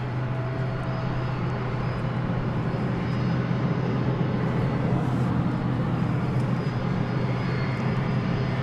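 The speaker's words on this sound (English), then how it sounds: "Just tearing ourselves away here for another vintage aircraft." A vintage aircraft engine droning at DFW Airport, a loud steady broadband roar with a low-pitched rumble that holds unchanged throughout.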